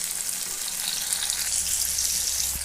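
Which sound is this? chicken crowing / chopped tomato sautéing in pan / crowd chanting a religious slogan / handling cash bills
chopped tomato sautéing in pan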